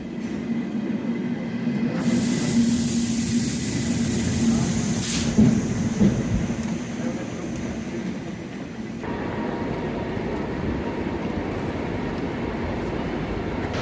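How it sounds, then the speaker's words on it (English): Steady rumble of a passenger train travelling from Linz to Vienna, heard from inside the carriage, with continuous wheel and track noise and a brief high squeal early on. "I decided to hop on the first train to Vienna."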